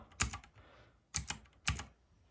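Three short bursts of clicky keystrokes on a Rampage Ally K11 keyboard, close and fairly quiet, separated by brief pauses with no talking.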